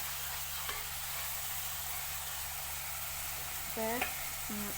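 Sliced onions fry and get stirred in a pan for a Sri Lankan-style dried fish curry, a soft steady sizzle under a low hum, with faint scraping and a few short tonal blips.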